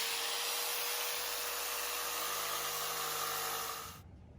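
Power tool cutting a piece of wood for a rustic Christmas tree stand, a loud steady high-pitched whine for about four seconds that cuts off abruptly.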